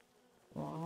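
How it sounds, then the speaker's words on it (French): Flies buzzing in the video game Animalia Survival, a faint steady drone that swells louder partway through and then holds, heard alone without talk. "Bon, on entend les mouches."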